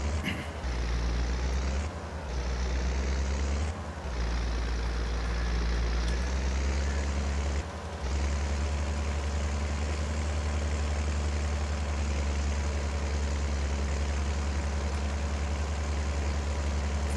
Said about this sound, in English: I think it struggles slightly, this tractor with this load on.